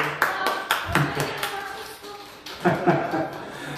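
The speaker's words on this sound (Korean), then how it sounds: "박수 하시겠습니다" A church congregation at a Sunday worship service claps in a loose, uneven burst of separate hand claps that fades and then picks up again, with some voices murmuring underneath.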